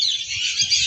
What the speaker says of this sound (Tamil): பறவைகள் தான் இருக்கிறது.